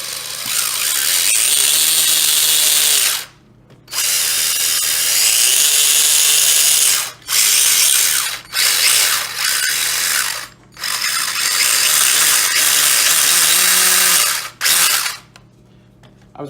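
A custom RC car powered by a drill motor through a brushed ESC revs hard in long, loud whining bursts, cutting off briefly several times before spinning back up to full speed.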